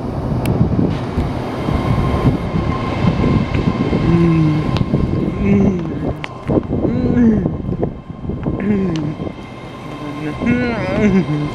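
Trains pass on a railway line, with SWR, CrossCountry Class 221 and GWR Class 800 units in view, giving a sustained rumbling roar with brief horn-like tones and squealing wheels, while people talk over it.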